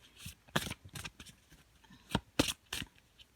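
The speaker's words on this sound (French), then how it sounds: "on va confirmer ou infirmer avec le tirage d'un arcane majeur" Tarot cards shuffled by hand to draw a major arcana card, a series of short crisp riffling bursts with pauses between them, close and fairly quiet with no talking.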